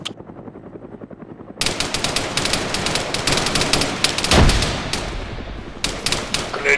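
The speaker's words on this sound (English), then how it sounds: "Grenade just went off the north side." A muffled grenade blast followed by dense rapid gunfire in Arma 3, bursts of automatic shots rattling on close and loud, with a brief quieter stretch before the firing resumes.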